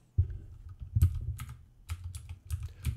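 A password being typed on a computer keyboard, a close run of clicky keystrokes in short uneven bursts with brief pauses between, and no voices.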